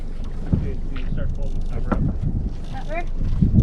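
Steady wind rushes across a sailing boat cruising on open water, a continuous breezy roar with some rumble, while voices talk faintly over it.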